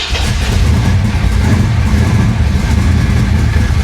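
A flood-damaged 1966 Chevrolet Impala engine running rough and loud close by, a steady low rumble with uneven revving.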